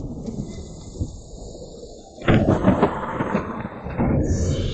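Thunder in a dramatic scene, starting as a low, hissing rumble and then swelling into a louder, crackling roll partway through that continues to the end, with no speech.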